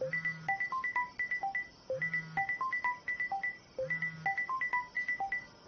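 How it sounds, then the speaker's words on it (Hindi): A phone rings with a repeating electronic melody, short bright tones in bursts with a low buzz at the start of each cycle, heard clearly with no talk. "किसका फोन है?"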